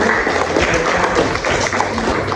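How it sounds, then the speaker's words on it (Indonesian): Classroom applause for a student group, a dense burst of many hands clapping at once that stays loud and steady for a couple of seconds, with faint voices mixed in. "Mari kita berikan aplaus yang meriah"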